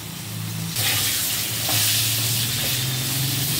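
Pointed gourd pieces for a fish curry drop into hot oil in a pan and set off a loud, close sizzle that swells as more pieces go in and continues steadily, with some stirring.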